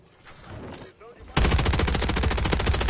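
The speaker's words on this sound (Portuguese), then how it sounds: "Olha um tiro." Rapid bursts of video game gunfire erupt partway through, loud and close, with a fast rhythmic rattle of repeated shots after a quieter stretch of game sounds.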